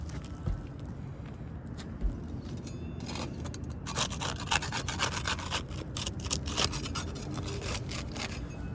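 Asphalt roof shingle being lightly pried loose in a valley, shedding granules: a close, continuous gritty rubbing and scraping that grows busier and more crackly partway through, no voices.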